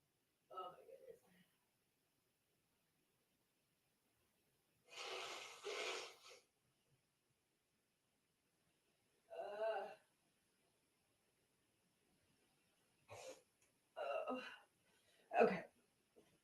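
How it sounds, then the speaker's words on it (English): A man blowing his nose in short bursts: a long honking blow, then a shorter one, followed by a few quick sniffs and snorts, close up in an otherwise quiet room. "let me blow my nose real quick"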